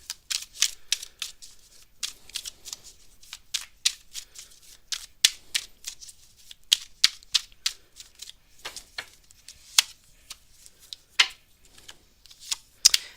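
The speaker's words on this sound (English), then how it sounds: "And then we're going to shuffle again." Tarot cards shuffled by hand during a live tarot reading, a rapid, irregular run of crisp riffling clicks and flutters that stop and start again, close and clear with no voices.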